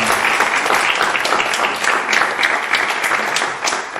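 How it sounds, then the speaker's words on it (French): Audience applause in a university lecture hall at a European elections debate in Le Mans, welcoming Arnaud Lamy: dense, steady clapping from a full room, close and loud, running the whole time with no talk over it. "Merci de bien vouloir applaudir Arnaud Lamy si vous voulez bien."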